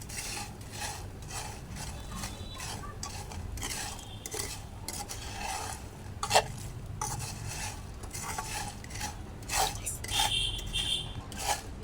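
A spoon stirs coconut chira, flattened rice cooked with coconut, around a pan, giving steady scraping and clinking with occasional sharper knocks against the metal, close and moderately loud.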